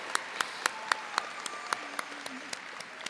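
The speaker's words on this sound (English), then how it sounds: "Can we please have a round of applause for Brad?" A graduation audience at a high school ceremony claps in scattered, sparse strikes, a thin spread of individual claps rather than a full ovation, heard from a distance across a large hall.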